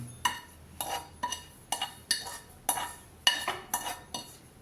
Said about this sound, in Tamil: இப்போ இந்த வறுத்த ரவையை ஒரு கப்பில் கொட்டிக்கலாங்க.